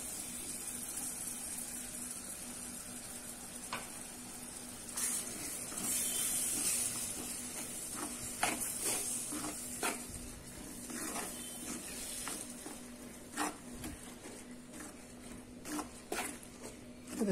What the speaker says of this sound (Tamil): இந்த தக்காளி நமக்கு பச்சை வாசம் போகிற அளவுக்கு வதக்கிக்கலாம்